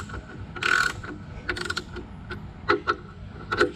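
A ratchet clicks in short bursts, snugging the bolts on a tin cast cover of a Detroit 6-71 diesel engine being assembled, with several separate clicking runs spread across the moment, close and fairly loud.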